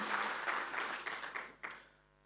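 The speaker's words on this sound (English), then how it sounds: "let's give a round of applause to the leadership" Crowd applause at a tax conference opening, a steady patter of many hands clapping at a distance, fading out toward the end.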